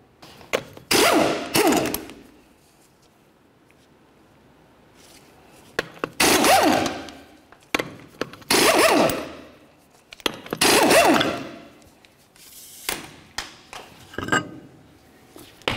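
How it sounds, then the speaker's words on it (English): Lug nuts and the wheel come off a 2004-2006 Scion xB, with bursts of impact wrench whirring on the 21mm nuts separated by quiet pauses and clinks of metal, close and loud. "Continue on to removing all 4 of your 21mm lug nuts and then the wheel."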